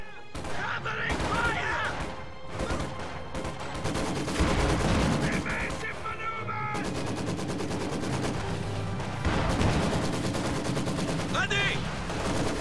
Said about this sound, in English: Machine guns facing off.